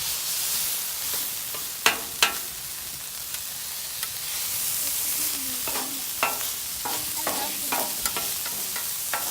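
Onion and green pepper stirred into sizzling cheesesteak meat on a griddle, a steady close frying hiss with several sharp spatula scrapes and clanks spaced through it, no talking.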